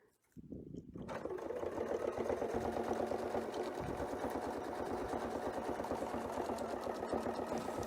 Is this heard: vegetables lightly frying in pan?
no